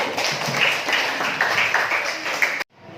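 Students clapping together in a classroom, a dense burst of applause lasting a few seconds close to the listener and then cutting off abruptly.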